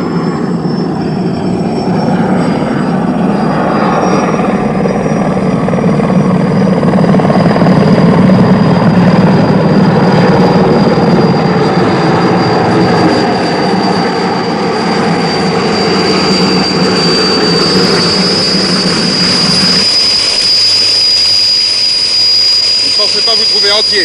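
Aircraft trying to land over marshland, a loud continuous engine roar with a high whine that thins and drops away near the end, with voices faintly under it.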